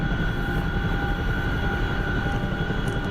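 Chinook helicopter in a flight video game, a steady loud rotor and engine drone with a constant whine, close and unbroken throughout.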